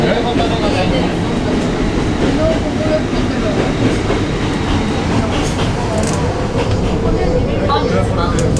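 Hakone Tozan mountain railway train running toward Hakone-Yumoto, a steady loud rumble and rattle of wheels and carriage from inside, with a faint onboard announcement voice over the noise.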